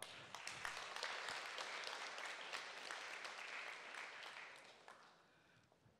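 Broad audience applause at a ceremony honouring a bank chief, steady and moderately distant for about four seconds before fading out into near silence, with a sudden sharp noise at the very end.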